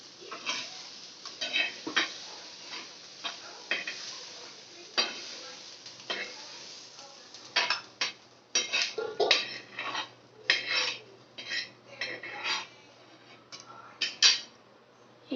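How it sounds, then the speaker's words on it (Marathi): A tomato and onion masala is stirred and roasted in a pan for shev bhaji, with repeated scraping and clinking of a spoon against metal over a faint sizzle, loud and close. "हा सर्व एकत्र आपण आता मसाला भाजून घेणार आहोत."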